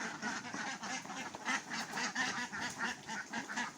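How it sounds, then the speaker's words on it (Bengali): A crowd of egg-laying ducks quacks busily and continuously as they leave their shed on a duck farm, many overlapping calls close by with no talking. "হাঁসগুলো বের হয়ে যাইতেছে"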